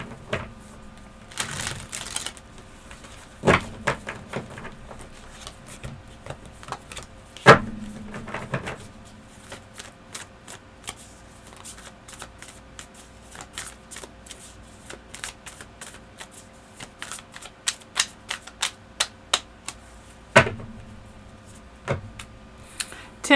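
Tarot cards shuffled by hand in repeated riffling bursts, with crisp papery flutters and soft taps between them, close up and with no talking.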